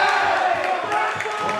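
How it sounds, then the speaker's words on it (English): An arena crowd at a men's college volleyball match roars and cheers loudly and continuously as a player enters the game. "Every time he comes into the game, the crowd just gets a little louder,"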